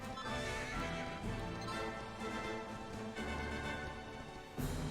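A horse neighing in Dragon Quest XI, a whinny blended into a dense, continuous bed of game music and effects, with a sharper burst near the end.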